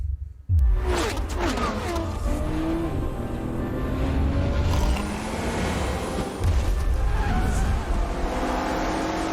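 Racing cars from the Forza Motorsport game roar loudly and continuously, with engine revving, tire squeal and skidding, a sharp burst near the start and another surge later.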